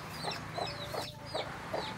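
Young village chicks cluck in short repeated calls, about five bursts spaced evenly, moderately close in a farmyard pen with a low steady background hum and no talking.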